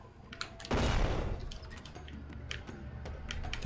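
A sudden loud burst from an explosion in the video game Deadly Premonition 2 hits hard and decays over about a second, followed by faint ticking and clicking game sounds.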